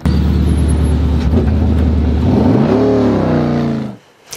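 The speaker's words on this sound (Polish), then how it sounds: "samochód jedzie dalej" A car pulls away past a roadside checkpoint, its engine loud and close with a steady low hum that rises in pitch as it accelerates, then cuts off abruptly near the end.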